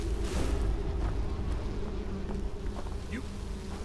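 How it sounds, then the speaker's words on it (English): A swarm of bees buzzes in modded Skyrim, a dense continuous drone over low rumbling combat noise, steady and close for the whole stretch. "I don't think you like the bees"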